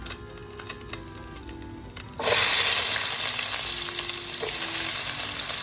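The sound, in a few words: chopped onions frying in oil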